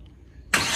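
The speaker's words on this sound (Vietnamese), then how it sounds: "Rồi, đã nổ máy rồi." A car engine, started by remote start, turns over abruptly and settles into a loud, steady close-up roar after a brief quiet pause.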